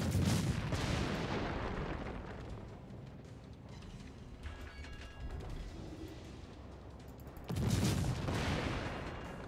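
Heavy naval gunfire in World of Warships, two loud booming salvos at the start and near the end with rumbling mechanical ship noise between them.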